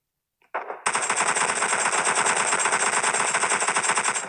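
Sustained automatic gunfire from a close-range rush in the mobile shooter PUBG Mobile Lite, a loud, continuous rapid burst starting after a brief lead-in and running without pause, no talking over it.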